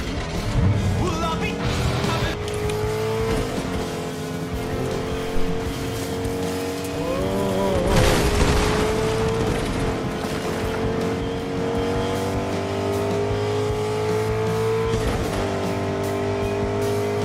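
A truck drives in Fortnite, its engine droning and revving steadily with shifting pitch, tire squeals and a brief rush of impact noise partway through, loud and continuous.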